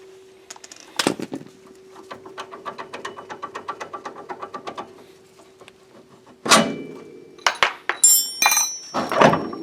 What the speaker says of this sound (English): that bolt is a 17 millimeter, so I'm going to use my impact and a wrench